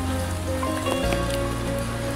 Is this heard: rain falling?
yes